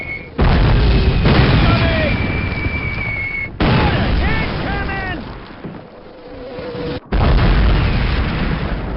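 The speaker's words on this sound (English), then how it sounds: "Mortars!" Mortar shells burst in a Call of Duty war battle, several loud booming blasts in a row with rumbling debris between them, while soldiers shout orders over the barrage.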